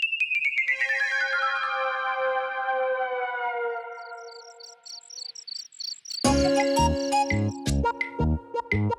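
A phone ringtone sounds late at night: a bright electronic melody sliding downward, then rapid beeping tones, then a louder, denser burst of synthetic tune, close and clear with no talking.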